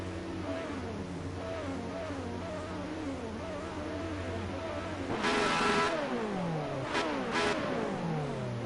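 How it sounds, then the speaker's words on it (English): Lotus Exos 125 open-wheel race car engine in Assetto Corsa, a steady high-pitched drone that climbs through the gears, with a louder burst of revving and quick shifts near the end. "do like the sound of the Lotus Exos 125, great little car"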